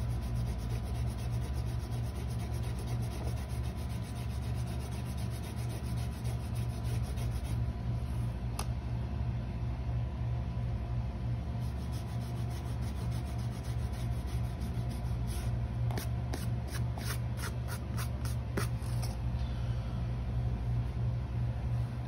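Marks are rubbed onto sheet metal laid out for a cladding tee, giving a steady dry scraping under a continuous loud machine hum, with a run of quick rhythmic strokes toward the end.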